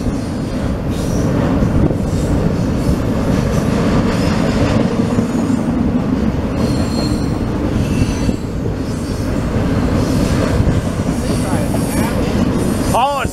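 A freight train with a KCS locomotive leading rolls steadily past at Cajon Pass, loud and close throughout, with rumbling cars and wheel squeal rising near the end.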